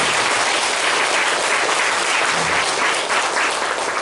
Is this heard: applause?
yes